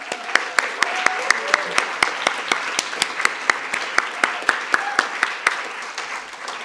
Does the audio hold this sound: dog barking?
no